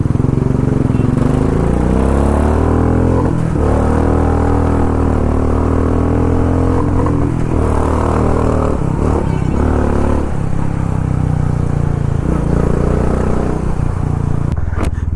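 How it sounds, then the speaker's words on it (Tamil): Motorcycle engine sputtering and struggling while low on petrol, loud and close, its uneven revs surging and dipping with clattering misfires over about fifteen seconds. "பெட்ரோல் இல்லாமல் தான் இவ்வளோ நேரம் முக்கினுக்குதுங்க வண்டி."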